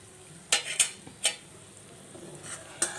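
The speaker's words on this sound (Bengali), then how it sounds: "এই চামচে দুই চামচ সরিষা বাটা দিয়ে দিলাম, দিয়ে ভালো করে মিশিয়ে নেব।" A spoon mixes mustard paste into a cauliflower and tilapia curry in a pan, giving a few sharp scrapes and clacks against the metal over a faint low sizzle, with no talking.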